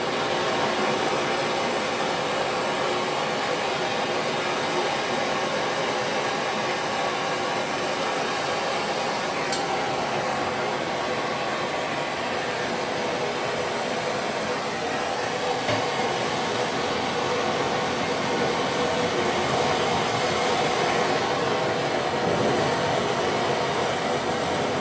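A torch roars steadily while heating copper pipe for soldering, a constant loud hissing rush that runs without a break through the whole stretch.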